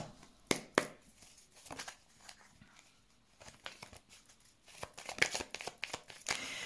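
Tarot cards being shuffled for a reading, with repeated soft papery riffles and crinkles, some sharper snaps, alone and close with no talk.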